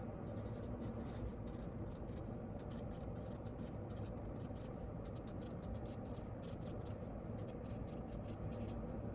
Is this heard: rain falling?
no